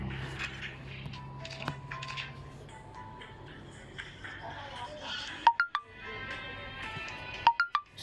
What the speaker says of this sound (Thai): สิ่งแจ้งเตือนในเกมมันดังชิบหายเลย